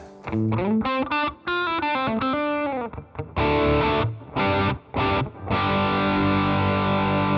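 Overdriven electric guitar lead, bright and sustained, with phrases and held chords ending cleanly without echo tails.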